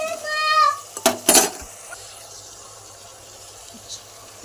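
Broad beans being stirred into tomato curry in a pot, a few sharp close metal scrapes and clinks of a spoon against the pot, then quiet simmering.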